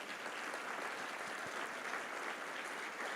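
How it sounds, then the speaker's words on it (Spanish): A church congregation applauds during a sermon, a steady, fairly quiet wash of many hands clapping at some distance. "¿Le puedes dar un fuerte aplauso al Señor Jesús?"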